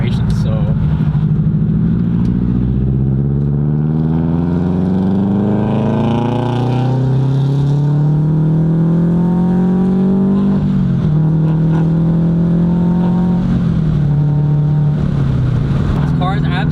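A supercharged Subaru BRZ revs hard through the lower gears, its engine note climbing repeatedly in loud pulls with brief shift dips, close and dominant throughout.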